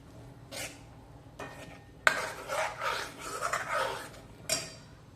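A spoon scraping and stirring through a thick, coarsely ground dal mixture in a pot, several rough rasping strokes at close range with brief pauses between them.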